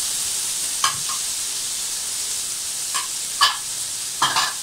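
Peas, potatoes and carrots stir-fry in a pan for chicken fried rice: a loud, steady frying hiss broken by four or five short scraping stirs, with no speech.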